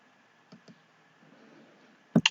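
A few crisp computer mouse clicks while working through Excel menus: two soft clicks, a pause, then a louder close pair near the end, with no one talking.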